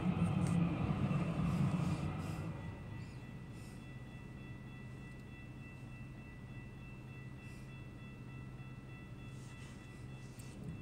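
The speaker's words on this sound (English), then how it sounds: "Calgary Transit train is coming." A Calgary Transit light rail train in Calgary, Alberta rumbles loudly close by as it arrives, then settles into a steady lower hum with faint tonal whine as it stands at the platform.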